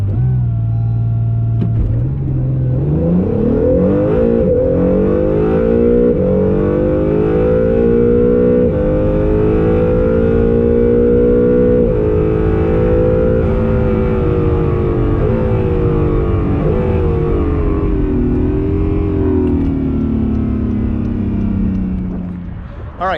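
An Acura NSX accelerates hard on a quarter-mile drag strip in cold weather, its engine note rising loud and close in a long sustained pull, climbing in pitch and then easing at the end.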